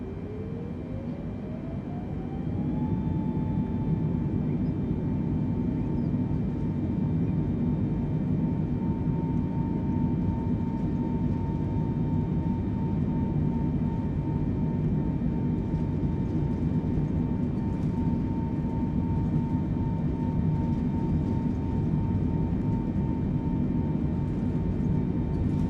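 A simulated Boeing 747 in Microsoft Flight Simulator 2020 spools its engines to full takeoff throttle, a rising whine settling into a steady, loud, continuous roar with a high tonal hum over deep rumble, heard alone.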